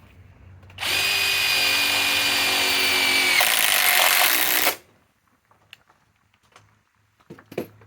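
A SKIL PWRCORE 20 impact driver runs loud and close in one continuous burst of about four seconds, whining with a shift in tone partway, then stops and leaves scattered faint clicks and handling noises.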